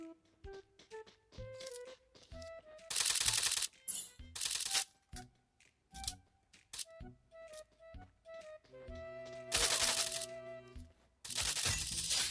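Gunfire in the mobile battle royale Free Fire, a suppressed weapon among the options, heard as a series of sharp cracks and short bursts mixed with clicking interface blips and tonal game cues, fairly close and moderately loud.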